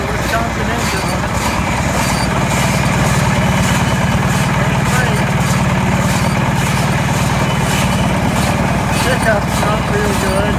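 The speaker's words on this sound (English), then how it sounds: "My 1952 Case VAC attached to 1955 Case 130 Baler with a 2-cylinder Wisconsin engine on it." A 1952 Case VAC tractor running a 1955 Case 130 baler with a two-cylinder Wisconsin engine, a loud continuous engine drone with steady mechanical clatter throughout, a voice talking over it.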